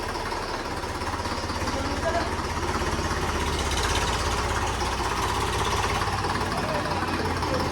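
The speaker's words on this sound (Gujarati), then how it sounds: "હવે ટ્રેક્ટર ચાલુ કરી દીધો ને સાઉન્ડ જોવો તમે ખાલી" A tractor engine idles at close range, a steady low rumble with a rattling, knocking texture that runs unbroken from start to finish.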